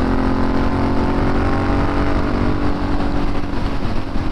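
A Moto Guzzi Griso street-fighter motorcycle rolling on the throttle to accelerate, a loud, close, sustained engine drone that holds steady throughout with no speech.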